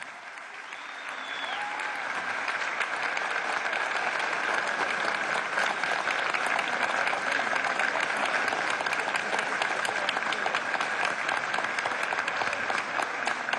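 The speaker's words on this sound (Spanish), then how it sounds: "al cual pido un aplauso y un reconocimiento" Sustained audience applause for Ali Rodríguez Araque at a meeting with PDVSA oil workers, swelling after a quiet start into a steady, dense, loud clapping that continues throughout.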